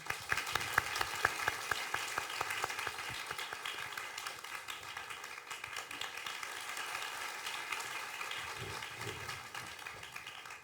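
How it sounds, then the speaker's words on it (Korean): An audience at a literary reading event welcomes the literary critic Shin Hyeong-cheol to the stage, with crisp, close clapping that starts strong and then settles into a softer, sustained patter, plus a few faint murmurs. "큰 박수로 맞아주시기 바랍니다."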